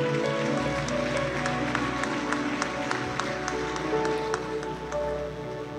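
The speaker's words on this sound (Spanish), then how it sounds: "Dale un fuerte aplauso al Señor." A church congregation claps loudly together in sustained, dense applause over steady organ-like music, the crackling claps continuous and near throughout.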